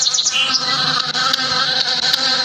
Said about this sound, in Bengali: ও ভাই মৌমাছি আসলো কেন?